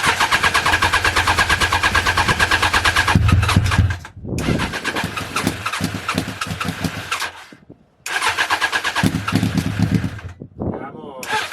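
Honda Fireblade motorcycle engine cranking and firing up several times, loud and close, with revving bursts between brief gaps and a voice talking over it.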